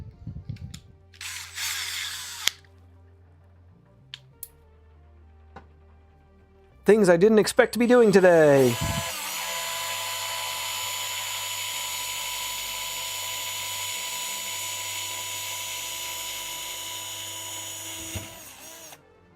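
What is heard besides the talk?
power drill drilling aluminum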